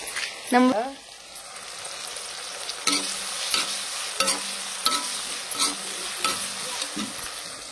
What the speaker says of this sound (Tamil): இப்போ வந்து வெங்காயத்தையும் தக்காளியும் போட்டு நல்லா வந்து வதக்கிடணுமா